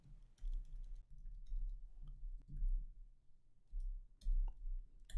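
Fast, light clicking of a computer keyboard as JavaScript code is typed, steady irregular keystrokes close up and fairly quiet, with no voices.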